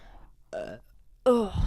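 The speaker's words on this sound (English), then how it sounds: "Sorry, burped." Two short throaty burps, the second louder and longer, with quiet pauses around them.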